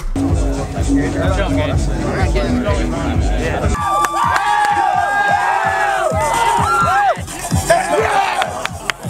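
Crowd at the Import Alliance Sparta 2016 car show cheering and shouting while being hyped up before a small concert, a loud continuous roar of voices with whoops and yells throughout.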